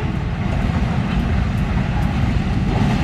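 A CC203 locomotive rumbles steadily nearby, with a dense low-frequency drone and broadband noise running unbroken throughout.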